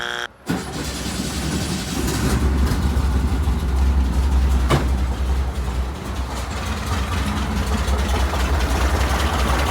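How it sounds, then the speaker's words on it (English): A 1967 VW Type 3 Squareback engine that has been sitting for a long time catches after a quick start and settles into a steady, close, loud idle with a low rumbling throb and no break. "I think it just needed to prime with fuel because the engine's been sitting for a long time. So it should start right now."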